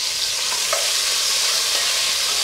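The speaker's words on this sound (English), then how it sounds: "I want to sear all four, six sides of the pork shoulder, pork chunks" Pork shoulder chunks seasoned with Cajun seasoning and kosher salt sear in a pan, giving a steady, close sizzle and frying hiss with faint stirring scrapes throughout.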